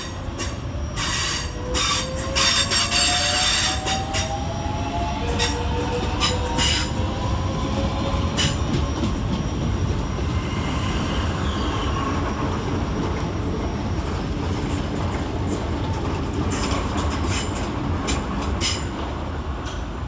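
Southeastern electric multiple units depart London Waterloo East, rumbling steadily and close with rhythmic wheel clicks over rail joints, rising motor whines and intermittent sharp squeals and clanks throughout, and no talk.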